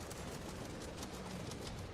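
Enemy mechs shoot in Project Nimbus, a steady dense wash of distant, rapid gunfire and explosions, fairly faint and continuous with no clear separate shots, and no one speaking.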